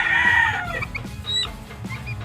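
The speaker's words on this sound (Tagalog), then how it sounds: "Ito yung mga bantam ko, yung breed." Bantam chickens clucking close by in a short burst of squawky calls, one louder drawn-out call first, then scattered clucks over a low farmyard background.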